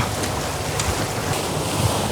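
Steady rushing surf and wind noise roar throughout, with a constant broadband wash of ocean waves close to the microphone, heard from a boat.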